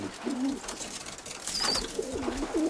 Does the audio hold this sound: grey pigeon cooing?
yes